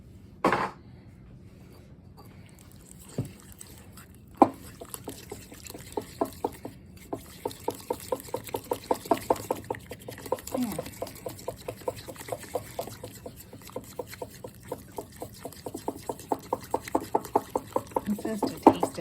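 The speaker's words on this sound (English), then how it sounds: "let's whisk it up" Whisk beating a liquid recipe sweetened with stevia in a bowl, a fast, steady run of light rhythmic taps and swishes that continues for many seconds, close and fairly quiet.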